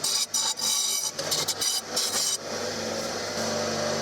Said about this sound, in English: the next stage is to grind these smooth